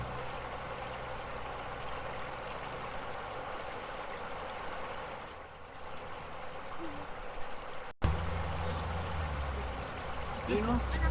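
Flowing water of a stream in a remote, secluded spot, a continuous soft rushing wash heard steadily throughout, with a brief break and slightly louder flow near the end.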